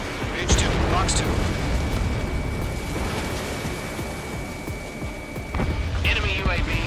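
An enemy UAV blowing up in the jet combat game Ace Combat 7, a dull rumbling blast layered over constant engine roar and radio chatter, with a couple of brief bright pops and a steady tone running through.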